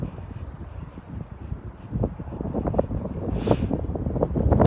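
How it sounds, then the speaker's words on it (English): Gusty wind buffets outdoors by a school building and playground, faint at first and growing rougher, with scattered knocks and rustles. "it's windy out here today, so you probably can hear the wind blowing"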